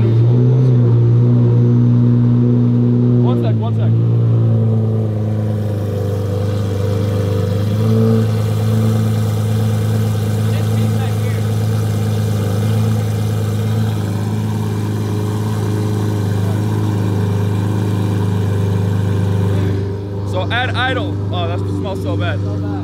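A loud exotic car engine rumbles at idle, close and continuous, with a deep steady drone and slight swells in pitch; people talk over it at the start and again near the end.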